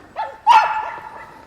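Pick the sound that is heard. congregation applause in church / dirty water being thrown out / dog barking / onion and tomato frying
dog barking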